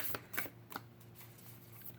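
Tarot cards being shuffled by hand at close range: a few quick papery riffles and soft slaps in short bursts over a quiet room.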